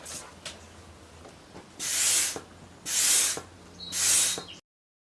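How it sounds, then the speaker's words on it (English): A hand pump sucks brake fluid out of the master cylinder reservoir on an Acura RSX Type S, three long, even hissing pulls after a quiet stretch, loud and close. "since I do have the pump, I'm gonna use a pump to suck everything out"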